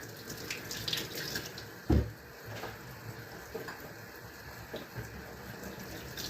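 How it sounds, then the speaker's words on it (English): Potatoes rinsed under a running kitchen tap, a steady wash of water hissing into the sink throughout, with one brief louder splash or knock near the start. "let me just rinse these out real quick."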